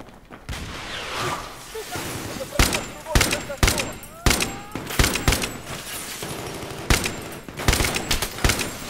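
Bursts of gunfire in the Battlefield 3 video game, a series of sharp loud shots in irregular clusters over a rumbling battle background, with a voice speaking in between.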